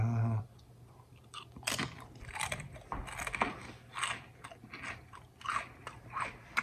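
Crunchy chewing and biting on a chip coated in bacon hot sauce, close and fairly quiet, with irregular crackling crunches and no talking.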